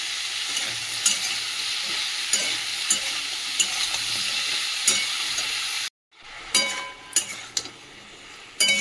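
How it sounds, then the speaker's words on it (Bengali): Vegetables are sautéed in a pan, with a continuous sizzle and periodic stirring scrapes and clinks up close. After a brief silent gap the frying resumes with sharper utensil knocks. "এই দেখো সবজিটাতেও ছাঁতলে নিয়েছি"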